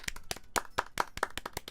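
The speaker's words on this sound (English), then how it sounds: "I'm the first to start applauding." In the game Doki Doki Literature Club, a single pair of hands claps in a steady run of about eight close, crisp claps with no talk.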